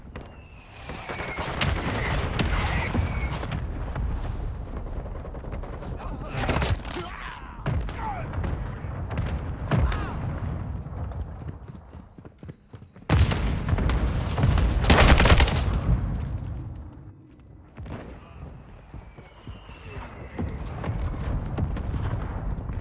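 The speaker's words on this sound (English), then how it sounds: "Hostile mortar strike incoming!" Heavy mortar strike booms and rattling bursts of gunfire in Call of Duty: Modern Warfare II, dense and loud throughout with repeated blasts and a big cluster of impacts midway.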